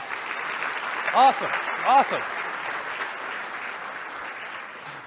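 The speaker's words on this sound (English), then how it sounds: "Can we get another round of applause?" A round of audience applause fills a Las Vegas economic development event, steady and full, while a presenter briefly speaks over it twice.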